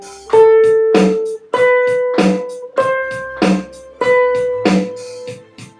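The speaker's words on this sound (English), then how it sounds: "Now, with individual notes, a half note is going to sound like this." An instrument plays a series of sustained single half notes, each struck clearly and held in a steady even rhythm, with about eight notes ringing out alone and close.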